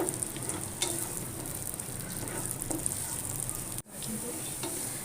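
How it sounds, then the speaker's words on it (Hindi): Julienned carrots fry in ghee in a pan with a steady close sizzle, light stirring clicks scattered through it and a brief gap near the end. "गाजरों को जब तक फ्राई करूँगी जब तक गाजर सॉफ्ट ना हो जाए"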